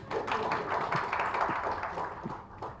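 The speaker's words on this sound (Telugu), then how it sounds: "తెలుగు భాష చప్పట్లు కొట్టండి" An audience claps at an awards event, Aarogyanidhi Awards 2015. The applause is a moderate, steady patter of many hands that fades slightly toward the end.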